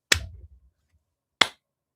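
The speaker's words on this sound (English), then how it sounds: "But now if I clap," Two sharp hand claps about a second apart in a small room lined with acoustic panels, each crisp and close with almost no echo after it.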